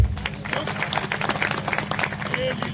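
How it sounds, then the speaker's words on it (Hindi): Applause from an audience at a gathering honouring a society's senior chairman, a brief dense patter of many hands clapping at moderate distance, with voices murmuring underneath. "आप तालियां बजाएंगे।"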